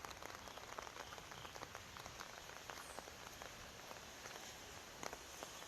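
Steady morning rain falls in Bangsaen in Thailand, a dense, even patter of drops on surfaces that stays quiet and continuous throughout.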